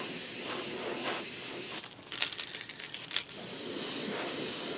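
Airbrush with a 0.2 mm needle at very low air pressure lays a fine spray of moss green paint, a soft hiss lasting about a second amid quiet background.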